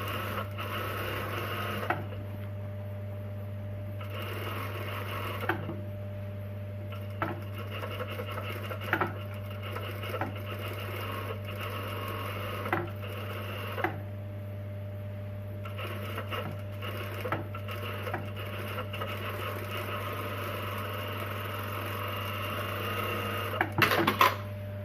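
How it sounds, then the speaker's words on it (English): A sewing machine edge stitches the facing of a tote bag, running as a steady, continuous mechanical hum with faint regular stitch ticks and a few brief stops and restarts. "you're going to open it out and you're going to edge stitch on your facing"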